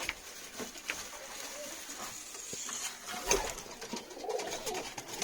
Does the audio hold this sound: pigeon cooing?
yes